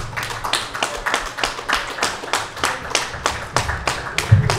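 Audience at a New Jersey horror convention panel clapping steadily for two guests arriving on stage, a dense run of close, sharp claps with a few louder thumps near the end.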